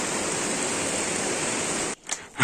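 The Pisque river in Imbabura, Ecuador rushes past in a steady, dense roar of flowing water near a small waterfall, then cuts off abruptly near the end.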